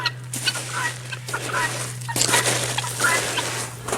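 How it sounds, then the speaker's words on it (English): Chickens cluck in short, scattered bursts near and around a homestead creek, over a low steady hum and soft background noise from outdoors. "The chickens are always down here in this creek."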